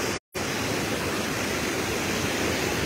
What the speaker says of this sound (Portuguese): Muita água jorrando.